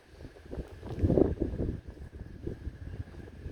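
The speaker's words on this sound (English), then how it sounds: "A little bit breezy over here." Wind blowing outdoors in the Australian bush, a gusty low rumble buffeting the microphone that swells and fades unevenly.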